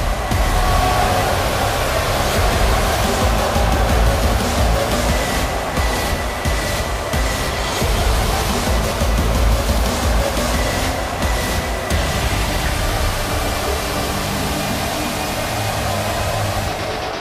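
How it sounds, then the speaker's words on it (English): A wrestling arena crowd cheers loudly during a fatal four-way match in Iraq, a dense, continuous roar of many voices that stays strong throughout with no commentary over it. "listen to the crowd here in Iraq. Show their appreciation for the superstars in the ring"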